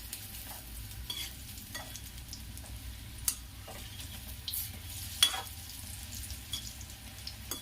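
Potato kadhi pakoras fry in hot oil on a high flame, a faint, steady bubbling sizzle with occasional sharper pops and ticks.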